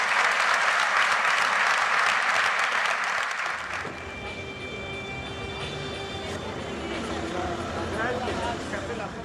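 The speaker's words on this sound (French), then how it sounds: "Je vous demande encore des applaudissements pour Sébastien." An audience applauds rally driver Sébastien of the world championship rally team. Loud, dense clapping lasts about four seconds and then cuts to a quieter scene with engine-like rumble and voices.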